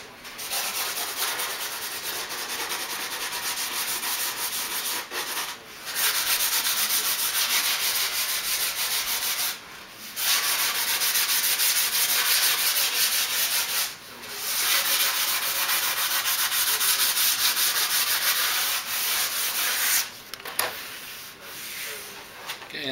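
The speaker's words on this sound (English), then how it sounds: "Don't have to do a lot of sanding." Steady back-and-forth sanding of a composite airplane wing with 220 grit paper, loud and continuous in long strokes broken by a few short pauses.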